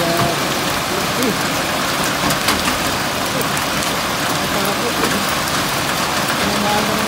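Heavy rain mixed with hail pelting down in Taif, Saudi Arabia, a dense, steady roar of drops and ice striking surfaces throughout, loud and close with no break.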